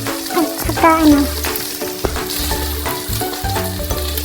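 BBQ-style pork belly sizzling loudly in a pan with banana ketchup and soy sauce added, a steady close frying hiss with a few clinks while someone talks over it.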